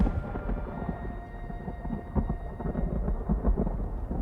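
Low rolling thunder rumbles with rain in the game Uru, a steady stormy wash with a couple of swelling booms, moderately loud and without talk.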